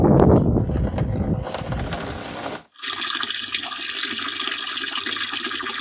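Garden water pump filling a container, with loud rushing and splashing water, a brief near-silent break, then a steady, even gush of filling water close by.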